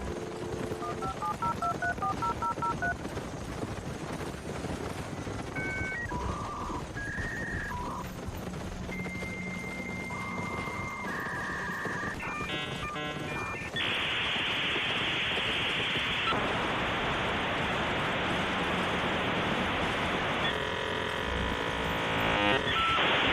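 A dial-up internet modem runs through its connection sequence: a quick run of touch-tone dial beeps, then stepped pitched tones and warbles, ending in a loud, sustained harsh screech and hiss of noisy handshake.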